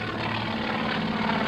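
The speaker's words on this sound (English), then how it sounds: "he actually does a wing over to turn the plane back around, coming back towards us" A propeller aerobatic plane flown at an air show doing a wing over, its engine a loud continuous drone that holds steady throughout with no voices over it.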